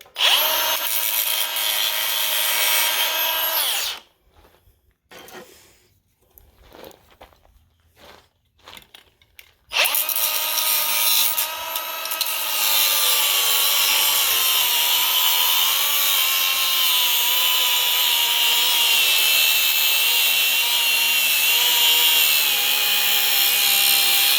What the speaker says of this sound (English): now what we're going to do is cut this bolt